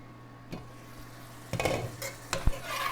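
Banana plant stems fry in a pan under a soft, steady sizzle. Spatula scrapes and clinks against the pan break in at irregular moments, growing busier toward the end, with no talking.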